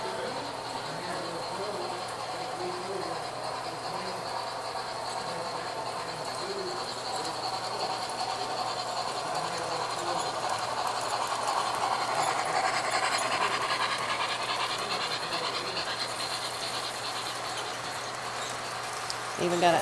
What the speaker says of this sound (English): Here it comes up the mountain.